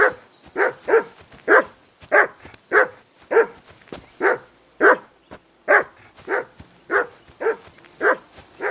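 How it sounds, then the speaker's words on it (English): A dog barks repeatedly in the medieval game Kingdom Come Deliverance 2, a loud, close, steady series of about a dozen sharp barks with brief gaps between them. "Whistle at that mutt of yours to stop barking!"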